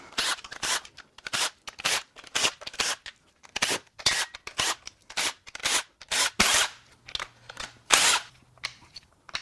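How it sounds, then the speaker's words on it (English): Valve cover coming off a Nissan Frontier's VQ38DD 3.8L V6, with a steady run of sharp scraping and clicking tool strokes close up, repeated rhythmically with no talk. "Now we can peel off the valve cover."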